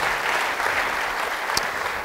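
Church congregation applauding during a sermon, steady dense clapping throughout at an even level, with a brief sharp click near the end.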